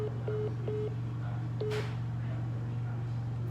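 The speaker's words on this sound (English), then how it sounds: "The phone lines are ringing." A phone-in radio line with a steady low hum and short repeated electronic tones at the start, followed by a brief burst of line noise. The tones are faint and sit over the constant hum.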